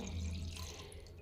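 Water is poured steadily into a jug, a continuous soft splashing flow with no talk.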